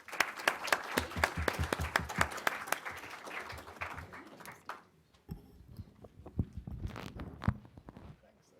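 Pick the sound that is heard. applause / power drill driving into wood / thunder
applause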